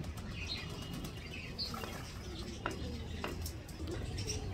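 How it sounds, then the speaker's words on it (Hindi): Pigeons cooing softly while eating grain, with bursts of wing flapping and a few faint chirps nearby, under a low background hum. "ये अपने कबूतर और प्यारे गेंग सारे मिल के यहाँ पर दाना खा रहे हैं"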